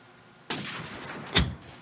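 A single sharp sniper rifle shot from a retro video game, played on an Nvidia Quadro NVS 450, cracks out once near the end over a steady game-ambience bed, with no voices.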